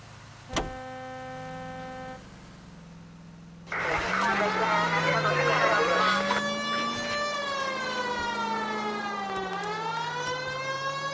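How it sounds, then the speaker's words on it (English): A wailing police car siren in the video game L.A. Noire starts abruptly and sweeps up and down continuously over a steady engine hum, loud and close. "Turn on the siren and pull her over."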